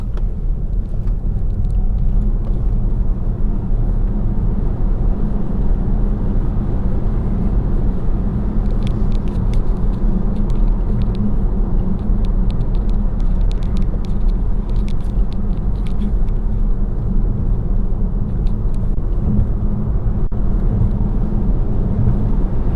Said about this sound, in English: The i3 can whiz along quite well, can't it?